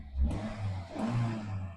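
An older cheap part-exchange car's engine, stalling after cutting out, runs unevenly and rises and falls through two revving swells, close and loud, with no talk.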